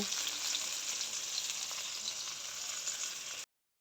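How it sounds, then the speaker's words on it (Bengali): Mahashol fish fries in a pan with a steady, dense sizzle and crackle of hot oil. The sound is close and even, with no voices, and cuts off abruptly after about three and a half seconds. "মাছটা ভালো করে ভেজে নিব।"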